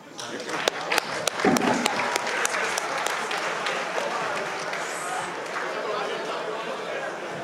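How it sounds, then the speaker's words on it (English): An audience at a book launch applauds, a burst of sharp individual claps that settles into sustained clapping amid a voice and some crowd chatter. "Please a round of applause for our living heroes."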